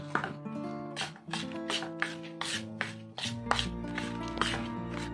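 A spoon works powdered sugar into a roasted gram flour mixture for besan laddoos, making a quick series of close, rhythmic scraping and rubbing strokes against the bowl.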